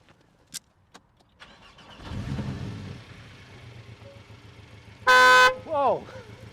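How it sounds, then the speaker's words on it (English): A Porsche Cayman 718 mid-engined sports car idles with a low engine rumble, then gives one loud, sharp honk of its horn, with voices nearby. "Can you honk the horn on this thing?"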